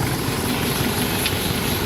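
A repaired vehicle diesel engine runs smoothly and steadily, a loud close continuous rumble with even churning texture, no voices.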